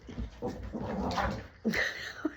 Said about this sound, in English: I don't know if you can hear the growling.